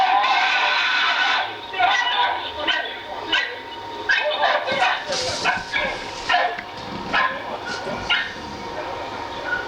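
Several dogs bark, yip and whimper in quick, uneven bursts during an attack at a fence, loud and close, with agitated overlapping voices between the barks.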